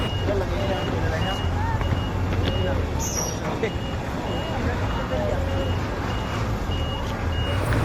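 Vehicles roll off a ship at Lucena port, with repeated reversing beeps over a steady rumble of truck and bus engines, amid the busy background noise of a crowded dock.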